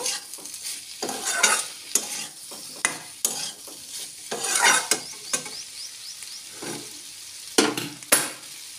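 Turmeric powder being stirred into a frying pan of bottle gourd leaf mixture, with repeated spoon scrapes and clatters in an uneven rhythm over a light sizzle, close and without talking.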